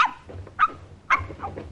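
A dog barks several times in a sharp, close rhythm of yelps over low background rumble, with no voices heard.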